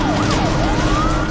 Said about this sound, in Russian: включай сирену